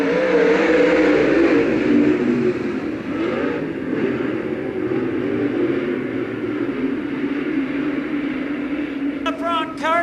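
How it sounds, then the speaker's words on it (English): Dirt modified race cars roar around a speedway in a heat race, several engines droning loudly together as a continuous roar while an announcer talks over them. "UFP Dirt Car Modified Heat Racing"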